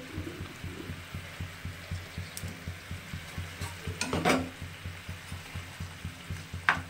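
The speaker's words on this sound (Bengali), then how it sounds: "মাছগুলো ঝোলের ভিতরে দিয়ে দিচ্ছি।" Small pabda fish simmer in a poppy seed gravy, a soft, quiet bubbling with a regular pulsing rhythm and a few faint clinks, heard alone without talk.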